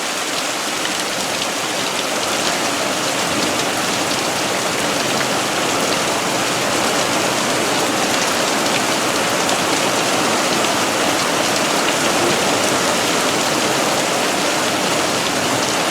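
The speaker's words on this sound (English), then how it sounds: "I guess you can tell that it's raining hard out here." Heavy rain pours outdoors during a thunderstorm in Prescott, Arizona, a loud, dense, steady hiss of drops striking surfaces that continues unbroken throughout with no voices.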